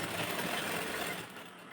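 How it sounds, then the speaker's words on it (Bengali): A sewing machine runs briefly as it stitches a dress lining with piping, giving a short, steady mechanical whir that eases off near the end. "এবার আমি সেলাই করে নিই"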